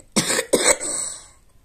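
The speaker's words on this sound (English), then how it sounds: "Every time I laugh, I cough." Two harsh coughs, close and loud, one right after the other following a laugh, with a short rasping tail fading out; no talking.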